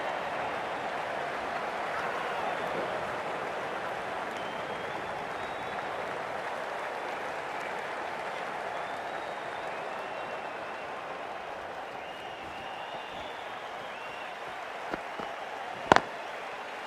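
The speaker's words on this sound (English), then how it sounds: "Please give him a round of applause." A cricket crowd at The Hundred match between Oval Invincibles and Southern Brave applauds in a broad, distant wash of clapping that holds steady for the whole stretch, ending in a sharp knock.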